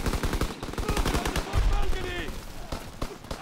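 Lewis gun machine gun in the Call of Duty WWII video game firing rapid bursts of rhythmic close shots, with a brief lull and then more shots alongside other battle noise.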